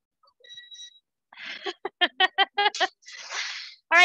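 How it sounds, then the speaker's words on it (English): A kitchen cooktop gives short electronic beeps as the pan is lifted off, mixed with close, quiet speech-like sounds and clicks in a small room. "See all the beeping when you lift it up?"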